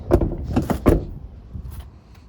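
Large side door of a Mercedes-Benz Sprinter 314 passenger van being opened: a cluster of close, loud mechanical clunks and latch knocks followed by a softer rolling slide that fades out, with no talk.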